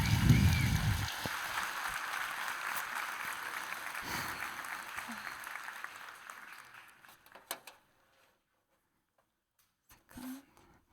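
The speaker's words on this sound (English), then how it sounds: "warm round of applause." A large tech conference audience greets a speaker with applause that swells after a short voice, holds steady, then thins into scattered claps and dies away, followed by a brief voice.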